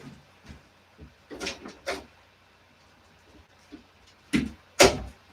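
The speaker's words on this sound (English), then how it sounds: "Excuse me, I have to open the door for him." An indoor house door opened to let in a scratching puppy: a few dull knocks and handling clunks, then two sharp latch and door sounds near the end, close and fairly loud in an otherwise quiet room.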